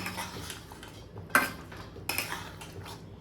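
A metal utensil stirs chicken curry in a pan, making a few sharp clanks and scrapes against the pan over a quiet background.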